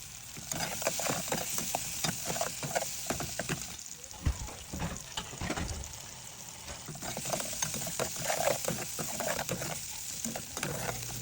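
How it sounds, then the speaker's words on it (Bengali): Onion and green chili fry in oil for a prawn and bottle gourd dish. A crackling sizzle runs under repeated scraping stirs of a spatula against the pan, close and moderately loud. "এটা আমি ভালো করে ভেজে নিব।"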